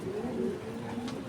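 A racing pigeon coos softly with a low, throaty, rolling murmur. The calls run continuously and sound near but quiet against a calm background.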